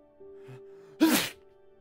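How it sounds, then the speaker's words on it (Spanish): A single sharp sneeze performed by a voice in a spoken telling of the Pinocchio story, preceded by a faint breath and sounding against a steady low tone. "Y estornudó otras tres veces."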